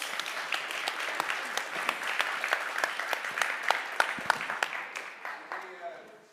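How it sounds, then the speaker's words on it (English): Audience members at a panel discussion on Nordic democracy applaud the panelists, a sparse room of distinct, crisp claps that keeps a loose rhythm and then thins out toward the end. "An applause for the panelists"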